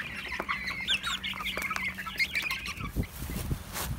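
Several backyard chickens cluck and chatter excitedly over fresh feed, a busy cluster of close, moderate calls followed by brief scuffling and pecking noises.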